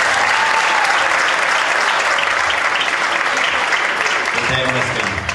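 Sustained applause from a church congregation cheering children after a kids' worship performance, loud and steady throughout, with a few voices rising near the end.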